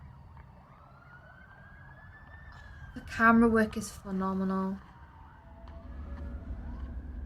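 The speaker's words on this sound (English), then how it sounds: "And the little sirens in the background as well," Faint sirens wail in the distance beneath a person speaking, with a rising and falling tone drifting across the background.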